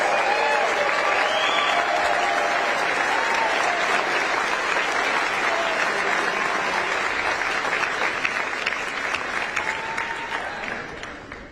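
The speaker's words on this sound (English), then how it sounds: "Let's give them a round of applause for everything they do and all those involved." A large crowd at a vice-presidential nominee's rally in Las Vegas applauds for police officers, a sustained roar of clapping with some cheering that holds strong and then tapers slightly toward the end.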